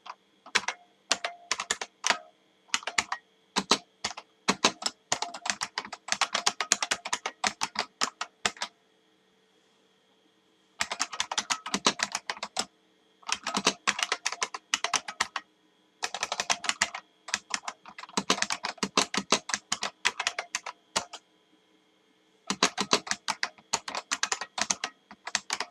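Computer keyboard keys clatter in rapid bursts while a line of code is typed, with brief pauses between runs of keystrokes, close and fairly loud, no voices.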